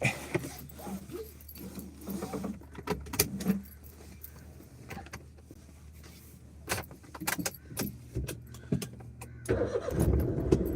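Keys jangle near a car, followed by an engine cranking and catching, its rumble rising loudly near the end.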